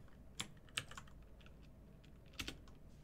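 Someone is typing on a computer keyboard during a live coding stream to post in the chat. The keystrokes come as faint, scattered clicks in small bursts with pauses, and nobody speaks.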